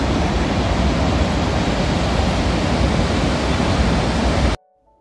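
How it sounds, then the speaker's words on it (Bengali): Roar of a large waterfall about 490 feet wide, a loud, dense, steady rush of falling water close by that holds constant and then cuts off abruptly near the end. "ঝর্ণার জলের এত তীব্র আওয়াজ, একসময় তো গিয়ে নিজের কথাই নিজে শোনা যায় না।"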